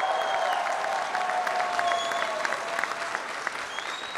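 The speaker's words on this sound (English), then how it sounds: "How about a round of applause for all those fans?" FC Cincinnati fans at Fountain Square applaud in a sustained, even wash of clapping from a large outdoor crowd, with faint cheering mixed in.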